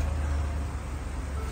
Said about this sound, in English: Great sounding engine, nice and quiet.